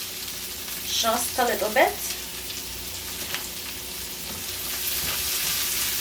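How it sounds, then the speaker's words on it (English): Garlic, pimento peppers and carrots sautéing in oil in a pan, a steady close hiss and crackle throughout, with someone speaking briefly over it early on. "I'm gonna saute the carrots"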